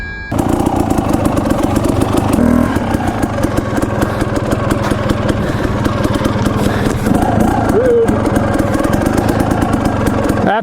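A motorcycle engine fires up and keeps running loud and steady at close range, a dense rumbling drone with a brief rise around the start, heard alone without talk.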